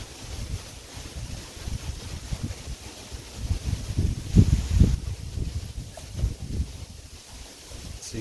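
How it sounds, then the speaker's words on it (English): Wind gusts over a river during a boat outing, a low, uneven rumble that buffets the microphone in irregular surges, strongest near the middle, with no voices. "the wind is blowing upstream"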